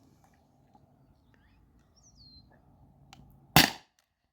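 A single sharp air pistol shot, from a Beeman BP50 or T4E TR50 fired over a chronograph, cracks out loudly after a quiet stretch with faint bird chirps in the background.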